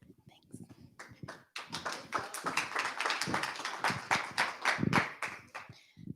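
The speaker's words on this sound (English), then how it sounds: "Round of applause for Jeff." Audience at a venture studio premier night in Huntsville, Alabama giving a round of sharp clapping, with individual claps distinct and a few voices mixing in.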